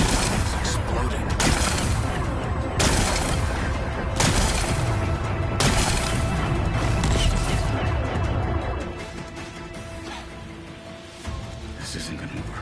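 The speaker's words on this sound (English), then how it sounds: "Gotta blast away some rocks, so I can expose the power cell." Rocks are blasted apart in a video game, with a series of heavy, booming explosions at a steady rhythm, loud and close, then a quieter stretch with a final blast, while a voice talks over it.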